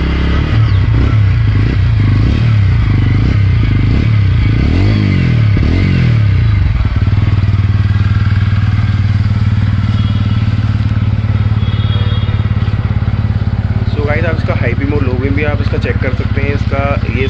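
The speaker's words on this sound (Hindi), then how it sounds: "चलिए इसका अब एग्जॉस्ट साउंड सुन लेते हैं" A TVS Ronin motorcycle engine revs a few times, then settles into a loud, steady exhaust rumble at idle, with someone talking over it near the end.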